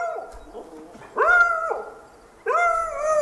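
A hunting dog in the video game Way of the Hunter 2 gives two drawn-out, whining barks about a second apart, close and clear against a quiet background.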